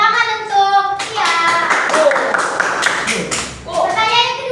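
Students in a seventh-grade class clap together for a classmate, a burst of dense applause lasting a few seconds, with a teacher's voice before and after.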